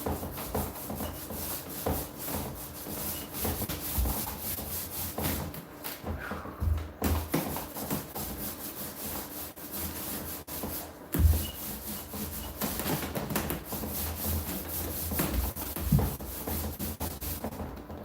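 A surface in a Japanese-style tea room is scraped by hand in repeated rough strokes, moderately loud and up close, with brief pauses between passes.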